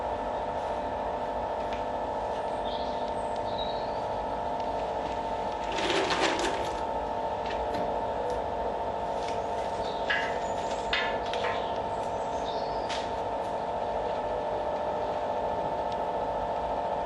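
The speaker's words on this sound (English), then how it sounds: "Fan is running, but on a very low blow." A small electric blower fan on a homemade coal forge runs on a very low setting, giving a steady, even hum throughout with a few brief clanks and clicks over it.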